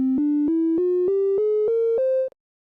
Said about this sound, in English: Let's see what we have so far by putting these tones in order.